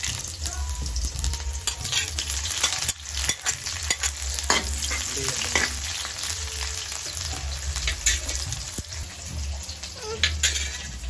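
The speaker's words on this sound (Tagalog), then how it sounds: "mag-gisa na tayo dito ng sibuyas and bawang" Onion and garlic sauté in hot oil in a home kitchen pan, a steady close sizzle with stirring scrapes and clinks throughout.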